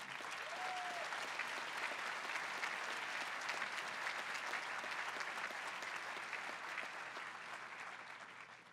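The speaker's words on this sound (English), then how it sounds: "Let's give them a round of applause." A commencement crowd at Claremont McKenna College applauds families and friends, a broad, steady wash of many hands clapping at moderate distance, sustained evenly and tapering slightly at the end.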